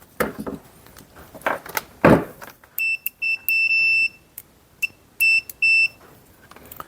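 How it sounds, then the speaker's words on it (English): A multimeter gives continuity beeps while testing wires on a car power adaptor for a dash cam and phone charger under repair, with several short and long high-pitched tones, after some handling taps and clicks. "I'll just check for continuity."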